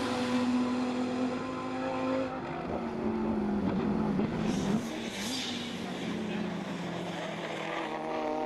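Race cars, including a Subaru and a Miata with a big rear wing, scream past in an unlimited race at a motorsport festival in Trinidad and Tobago, with engine notes rising and falling under a commentator's voice.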